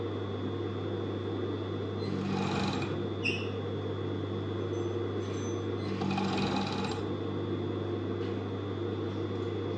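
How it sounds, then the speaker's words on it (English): An overlocker sews the cuff of a T-shirt dress in two short bursts of close, buzzing stitching over a steady background hum. "going to turn it around and overlock to keep the cuff together."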